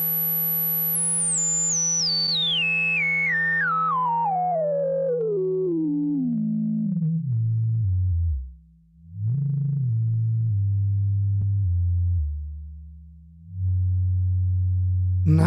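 A sustained sine-like synth tone from a Moog Mother-32 or the Broken Mini plugin sweeps steadily downward in pitch, bottoms out into a low rumbling drone, then a low hum holds steady.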